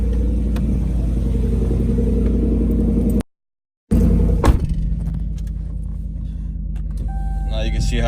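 Exhaust rumble from a 2019 Ram 1500 with muffler and resonator delete, loud and steady at first, cut by a brief dropout, then a sharp rev burst and renewed deep idle.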